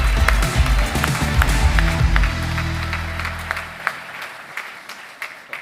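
Audience applause welcoming a guest at the Trophées des Entreprises du Cantal business awards ceremony, steady dense clapping with music underneath that fades out midway, leaving the clapping alone and thinning toward the end.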